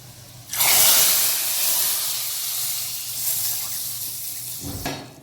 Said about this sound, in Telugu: పోపు అయితే బాగా వేగింది కదా వేసుకున్నాను సాంబార్లో